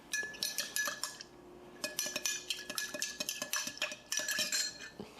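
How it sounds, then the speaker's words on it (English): A rum old fashioned stirred quickly in a glass, a brisk run of bright spoon clinks in three short bursts separated by brief pauses, close and quiet, with no talking. "Give that just a quick little stir."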